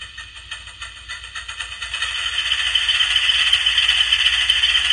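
Model train locomotive sound from an XL Systems DCC decoder, a rapid rhythmic chuffing and rattling that builds steadily louder into a continuous clatter.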